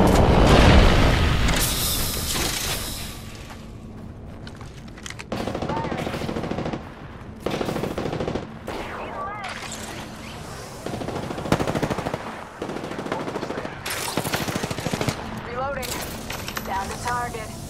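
Apex Legends gunfire on PS4, loud close machine-gun bursts and single shots in stuttering runs with booms and cracks between them, while in-game voice callouts speak over the shooting.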